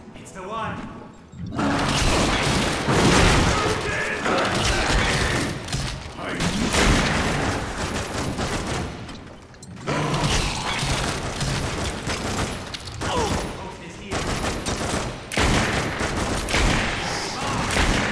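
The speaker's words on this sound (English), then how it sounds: "The explosive rounds with this cobra is fucking devastating" Explosive rounds from the Cobra gun in The Darkness II blast repeatedly in dense, booming volleys, a near-continuous barrage of gunfire and explosions loud in the foreground, with a brief lull midway and a voice talking over the din.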